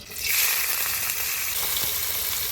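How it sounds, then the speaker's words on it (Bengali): Prawns dropped into hot oil in a wok, bursting into a loud, close, steady sizzle that rises sharply at the start and holds with crackling spatter throughout. "তার জন্য কেটে ধুয়ে রাখা চিংড়ি মাছটা প্রথমে ভেজে নিব"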